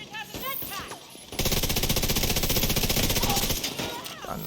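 Scorpio shotgun blasting in The Division 2, a sudden run of rapid, evenly spaced loud shots lasting about three seconds, preceded by brief game effects and followed by a trailing fade.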